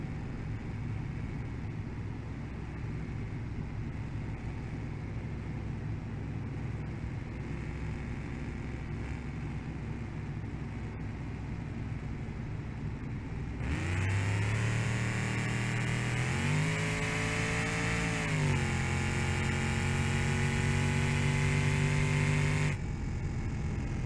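Police car engine in BeamNG.drive cruising at speed, a steady mid-pitched drone that surges louder and higher as the car accelerates, with a brief dip like a gear slip before climbing again, then dropping back to a quieter hum.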